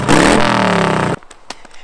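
A custom motorcycle engine with new exhausts roars loudly at its first start, a sustained rumbling revving that cuts off abruptly, followed by a few faint clicks and knocks.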